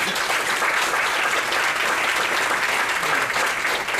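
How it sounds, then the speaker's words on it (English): An audience claps steadily and warmly, a dense, even round of applause throughout. "give her a very warm applause"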